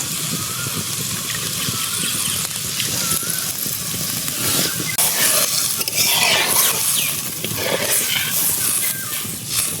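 Water hits hot fried spices in a pan for a Bengali village egg curry, giving a steady broadband sizzle and hiss that swells louder midway, with faint stirring scrapes.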